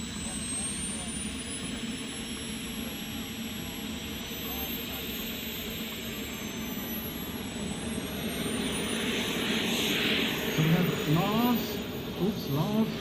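A model jet aircraft flies a routine at the Weston Park model air show, its turbine whine steady and sweeping in pitch overhead, with a crowd voice and an announcer talking over it.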